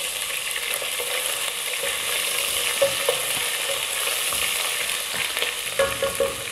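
Onions fry with ginger garlic paste for a chicken malai handi, giving a steady close sizzle, and occasional scraping clicks of stirring break through it with no talking.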